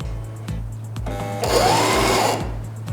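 A sewing machine stitches elastic onto a reusable cloth diaper, its motor whirring in short runs that swell into a louder, steadier burst midway. No one speaks.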